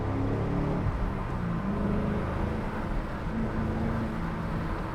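Chevrolet Camaro SS 6.2 on Toyo tires accelerating through corners, its V8 giving a steady deep rumble and drone heard from inside the car, loud and continuous with slight shifts in engine pitch.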